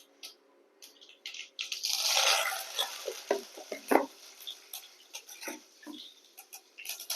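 Mustard seeds and curry leaves sputtering in hot oil, with scattered crackles and pops and a louder sizzling burst early on, then irregular ticks and small spatters close by, no talking.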